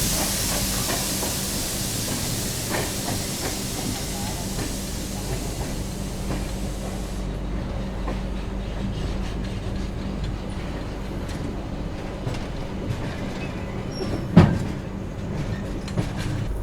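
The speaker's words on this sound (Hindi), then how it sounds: "चलिए निकल गई अपनी CR राजधानी इटारसी जंक्शन से" The 22221 CR Rajdhani Express running after leaving Itarsi Junction: a steady rumbling roar of the moving train from inside, with a constant hiss and a faint rhythmic clatter, and one sharp knock near the end.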